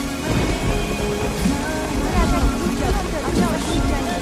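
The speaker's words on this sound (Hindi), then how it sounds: "रहने भी दो, बारिश तेज हो रही है।" Heavy rain pours down in a dense, continuous roar, with a rumbling low-end wash and muffled voices talking faintly underneath.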